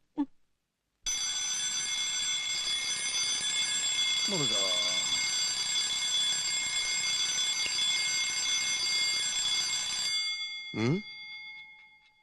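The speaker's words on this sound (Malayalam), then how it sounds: "ഇതാരാ 3 മണിക്ക് അലാറം വെച്ചത്?" A loud electronic alarm rings continuously for about nine seconds, a steady harmonic tone, then cuts off; brief voices occur before and after it.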